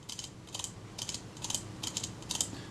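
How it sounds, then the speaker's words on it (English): Shutter speed ring on a Kodak Retina IIIS camera being turned by its plastic tabs, a run of small, close, quiet clicks and ratcheting ticks in uneven bursts, with no talking. "The plastic tabs here of course are connected to the shutter speed ring, so I'm checking that that moves."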